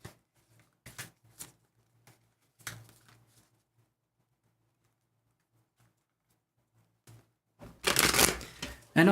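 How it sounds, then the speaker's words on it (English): Tarot cards are shuffled by hand in a few soft riffling bursts with long quiet gaps, ending in a louder, fuller riffle. "let's shuffle these cards here."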